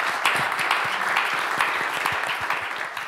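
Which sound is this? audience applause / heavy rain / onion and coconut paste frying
audience applause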